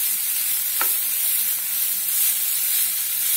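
Onions sizzling in hot oil in a pan for a whole masoor dal, a steady loud frying hiss throughout with one brief clink or stir partway through.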